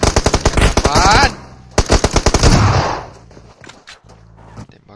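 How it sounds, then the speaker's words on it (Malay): Loud rapid machine-gun bursts from a shooting video game, two dense volleys of sharp shots separated by a brief pause, then scattered quieter shots and fading echoes. "Tembakan semula."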